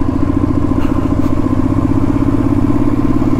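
Motorcycle engine droning loud and close while riding on a mountain road to Chanshal Pass, a steady throbbing run with the gear already shifted into second, no talk over it.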